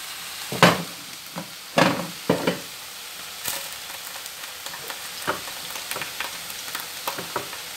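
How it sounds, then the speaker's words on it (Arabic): Sliced sausage fries in a pan with a low, steady sizzle, punctuated by a few sharp utensil clinks and stirring scrapes near the start, close up. "هنا غنقطعوا السوسيط وغنديروه في المقله يتقلى"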